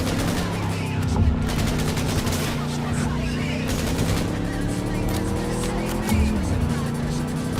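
Cyberpunk 2077 car chase with a car racing and cutting a sharp turn, a loud engine roar that shifts pitch through the turn, with rapid gunfire bursts and tire noise layered over it.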